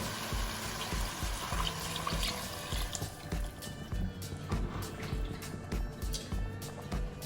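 Water splashes and trickles as leftover spice paste is rinsed into a pot for goat leg soup (mutton paya), with close, irregular pouring, sloshing and drips.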